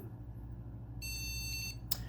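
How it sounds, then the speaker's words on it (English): A single high electronic motherboard POST error beep, signalling a faulty EVGA GTX 1070 graphics card, sounds for just under a second over a low steady hum, followed by a brief click. "that beep on my motherboard"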